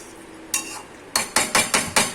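A metal lid is lifted from a pot of mutton curry with a single bright clank, followed by a quick run of five evenly spaced metallic knocks against the pot, close and loud in a quiet kitchen.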